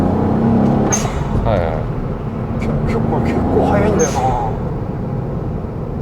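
Sharp turbo blow-off hisses from a Honda S660 mid-engine turbo kei sports car with a 6-speed manual, heard as short bursts from behind over a steady engine and road drone while people talk inside the car.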